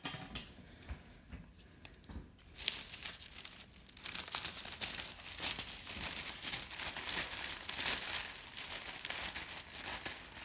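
Foil rescue blanket crinkles and rustles as scissors cut into it, quiet at first, then a louder, continuous crackling of handled and sliced foil sheet.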